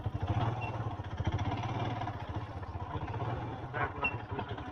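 A tractor engine chugs close by with a low, steady throbbing rumble and some clatter, holding level as it passes on a rural track.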